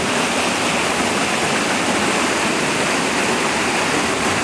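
Floodwater rushes through a residential area after heavy rain, a steady, loud, dense roar that holds unbroken from start to finish with no voices.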